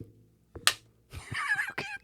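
Sharp hand clap marking a second take on a podcast recording, one crisp slap followed by a short burst of voices talking close by.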